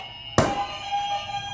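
A quiz game buzzer goes off suddenly after a short silence, a loud, sustained electronic tone that keeps ringing to the end.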